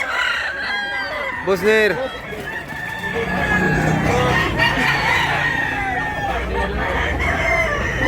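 At a chicken market in Tabunok, Cebu, a rooster lets out one loud nearby crow amid scattered clucking from other fowl, while people talk over the busy background.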